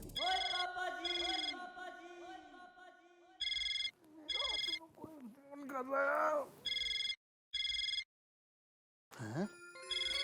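Ring tone from a phone at home, repeated electronic bursts of bright trilling tones in short regular pulses, with people talking over and between the rings.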